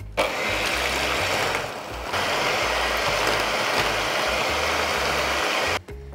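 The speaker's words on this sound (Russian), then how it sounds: "И все тщательно взбиваем миксером." An electric mixer beats charlotte cake batter of milk, flour and cinnamon, a loud steady motor whir that runs nearly unbroken, dips briefly, then cuts off near the end.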